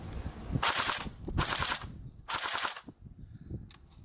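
Rapid full-auto bursts from a full-metal Matrix CM050A AK47 electric blowback airsoft rifle, three loud rattling volleys with metallic clanking between them, close and dry.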